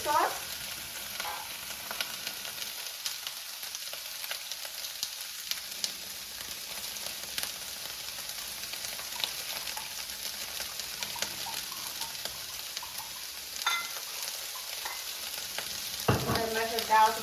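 Ground beef stir fry with soy sauce just poured in, sizzling steadily in a hot pan with soft stirring scrapes, a continuous close frying hiss throughout and a brief louder burst near the end.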